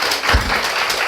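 An audience at a marketing presentation claps in a brief, dense burst of applause lasting about a second.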